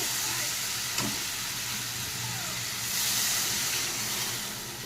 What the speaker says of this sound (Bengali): মশলাটা বেশ কষানো হয়ে গেছে, আমি এর মধ্যে দিয়ে দিচ্ছি জল